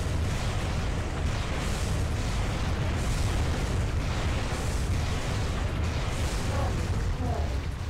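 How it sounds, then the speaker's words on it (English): Enemy rockets exploding in Armored Core: Silent Line, a dense, loud barrage of booming blasts that merge into a continuous rumble, with a voice speaking intermittently over it. "It's really trying with those rockets."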